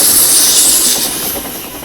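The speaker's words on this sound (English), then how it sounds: "You've burst your safety valve" Loud, continuous hiss of steam escaping from a steam locomotive's burst safety valve, a rushing roar that holds steady and eases slightly toward the end.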